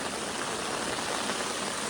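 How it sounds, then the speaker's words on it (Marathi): Heavy monsoon rain pouring steadily outdoors near a dug-out pond, a dense, even hiss with no pauses and no voices. "मजबूत पाऊस आलेला आहे"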